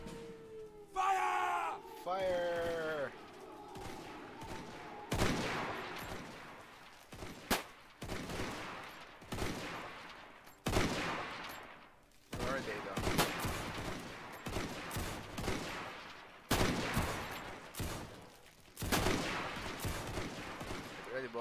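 Volleys of rifle gunfire in the Roblox video game Zulu Wars: several sharp, loud massed bursts spaced a few seconds apart, with shouted orders and yelling crowd noise between them.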